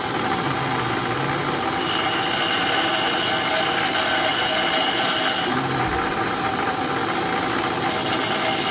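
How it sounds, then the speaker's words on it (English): Grinder working the collapsed thread of an exhaust hanger, a loud steady whine with harsh abrasive grinding close up, the pitch shifting slightly as the wheel bites and eases off over several seconds. "We're just going to come over here to the grinder again. We're going to hit it where that thread's collapsed."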